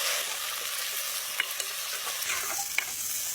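Large onions drop into hot oil and fry with a steady, close hiss that holds evenly throughout, broken by a few faint pops and light clicks of stirring.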